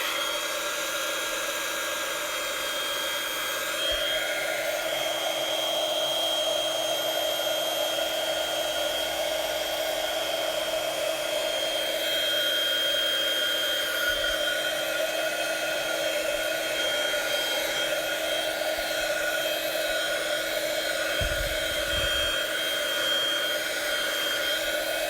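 A hair dryer drying a freshly painted watercolor page, blowing as a steady, loud whooshing whine for the whole stretch, its tone shifting slightly as it moves, close with no talk.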